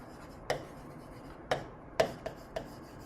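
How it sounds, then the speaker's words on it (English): A board being erased to clear space, giving a few short separate rubbing swipes at uneven intervals, close and fairly quiet, with no talk over them. "I'm gonna erase this so that I have space here"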